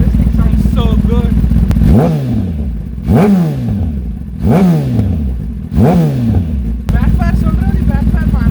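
A 2020 Kawasaki Ninja ZX10R fitted with a GP1R exhaust idles roughly, then gives four loud, sharp throttle blips about a second apart, each rising and falling quickly, close up over a rumbling idle.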